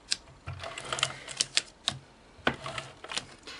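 An ATG adhesive tape gun is run along a card base, producing a series of quick clicking, ratcheting taps in an irregular rhythm, close and fairly quiet.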